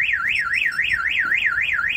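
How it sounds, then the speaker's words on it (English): A security alarm on a Ford F350 truck box wails loud and close, a continuous rising-and-falling siren sweeping about five times per second with no other sounds. "So now the alarm's going off."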